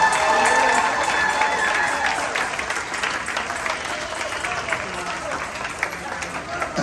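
An audience in a cruise ship's main dining room bursts into applause for the wait staff, loud at first then settling into sustained clapping from a crowd, with some cheering mixed in.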